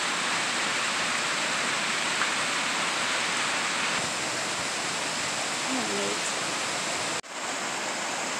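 Mountain stream pouring over a waterfall at the top end of a creek near Maggie Valley and Cherokee, a steady, loud, broadband rush of water that continues unbroken throughout with no talk.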